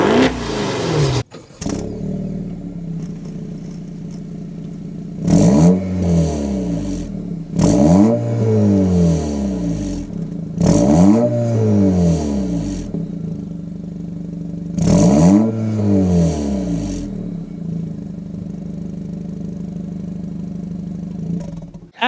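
A 2023 Acura Integra A-Spec engine revs hard four times in spaced bursts, the exhaust roaring up and falling back to a steady, rumbling idle between each.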